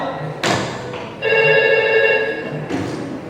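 A telephone rings loud and close in a Konkani stage drama scene, a short electronic burst followed by a longer sustained ring with dull thumps around it and no talk.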